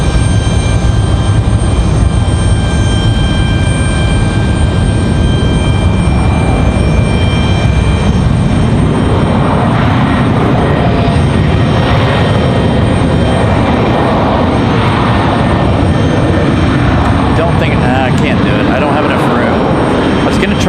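A large military transport aircraft departs Raleigh-Durham International Airport, its engines producing a loud, sustained roar that fills the whole stretch, with a voice talking over it.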